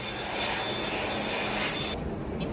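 Hand dryer in a public washroom in Hong Kong blowing a steady, loud rush of air that cuts off abruptly near the end, leaving quieter room noise.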